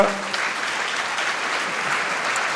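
An audience at a conference about the Vendée Globe sailing race breaks into loud, sustained applause, a dense wash of clapping that holds steady for the whole stretch with no voices over it.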